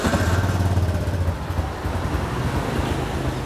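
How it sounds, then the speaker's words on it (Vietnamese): Engine of a used Japanese motorcycle, a Honda Exciter-type underbone bike with Thanh Hóa plates offered for sale in Vietnam, idling steadily after starting, a close, continuous low rumble throughout. "Nổ máy cái luôn anh em nghe nè"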